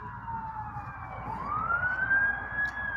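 A wailing emergency siren rises and falls steadily at moderate distance, holding a continuous sweeping tone over low traffic rumble in a southern town, with no voices.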